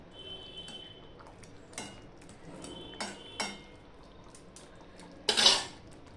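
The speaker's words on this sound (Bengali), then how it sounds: "আরও একটু নেড়ে দিলাম।" Pabda fish curry in oil is stirred in a pan, with a few scattered spatula clinks and scrapes over a low simmer, ending in a louder clattering scrape.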